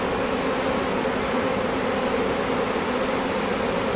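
A shaken-down honeybee swarm fills the air with a dense, continuous buzzing drone as the bees march into the hive, steady and close with no pauses.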